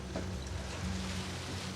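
A boat motor runs on the Mekong River in Laos during the dry season, with low water. It drones steadily and continuously with a deep, even hum and no voices.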